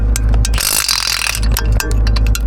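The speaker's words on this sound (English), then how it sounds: "Start pulling bolts, Stink Billy." Wrench or ratchet clicking rapidly while loosening bolts on an old Dodge differential in a junkyard, loud, close and steady, with metallic ticks and a brief pause midway.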